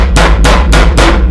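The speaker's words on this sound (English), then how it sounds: "You want just a regular cooking hammer to pound meat and stuff." A cooking hammer pounds a chicken cutlet wrapped in saran wrap: four heavy, evenly spaced thuds in quick succession, very close and loud, with no talk.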